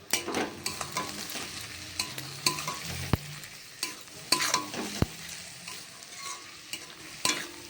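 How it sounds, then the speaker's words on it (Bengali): Frying in a pan seasoned with salt and turmeric, a steady close sizzle with repeated spatula stirring and scraping knocks and a couple of sharp metallic clicks, no talk. "আমি এবারে একটু নুন দিয়ে দিলাম একটু হলুদ দিয়ে দিলাম এবারে আমি আর একটু ভাজা ভাজা করবো"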